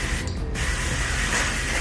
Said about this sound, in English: I'm just gonna spray it now on the bottom.